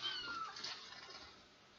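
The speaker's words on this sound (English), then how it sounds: "I do apologize for the meowing kittens in the background." Young kittens mew faintly in the background of a room, a few soft, high cries over quiet hiss, with no talk.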